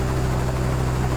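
Helicopter in the video game Trepang2, a steady loud droning rotor and engine hum, continuous and close, with no talk over it.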